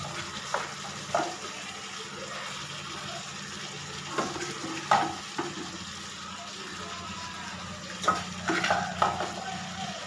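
Shredded cabbage fries in a pan beside boiling potatoes, a low steady sizzle broken by several sharp scrapes and clanks of a spoon stirring against the metal.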